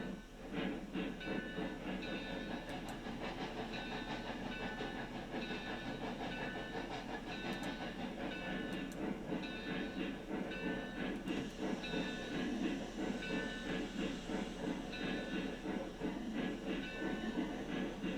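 Steam locomotive running in the Railroads Online video game on the Lake Valley map: a steady, close rumble and hiss with faint rhythmic clatter, continuous and alone for the whole stretch.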